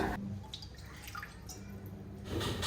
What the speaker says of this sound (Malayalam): ഇതിലേക്ക് 1 ഗ്ലാസും കുറച്ച് വെള്ളം ഒഴിച്ച് കൊടുക്കുന്നുണ്ട്.